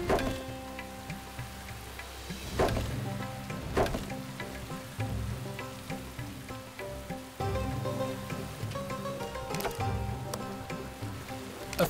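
Steady rain falls over a medieval settlement in The Settlers: Rise of an Empire, a soft continuous patter beneath game music, with a few brief sharper ticks and no one speaking.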